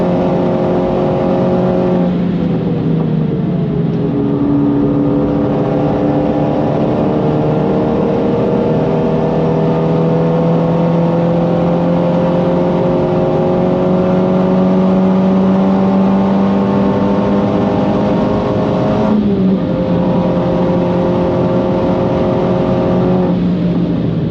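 A 430 hp Renault Megane R.S. at speed on the Nürburgring, its engine loud and close throughout with rising harmonic whine through the gears, a brief shift dip near the end, no voices.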